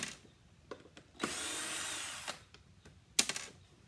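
A power drill backs screws out of a hockey skate boot, with a loud sustained whir of just over a second, flanked by brief drill bursts and clicks, with no talking.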